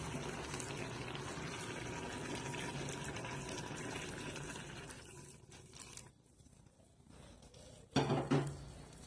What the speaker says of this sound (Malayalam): ഇനി നമുക്കിതിലേക്ക് പാല് ഒഴിച്ചു കൊടുക്കാം